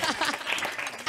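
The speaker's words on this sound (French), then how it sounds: "on les applaudit bien fort" An audience briefly claps for children on a kids' show, a short burst of applause with a voice speaking over it.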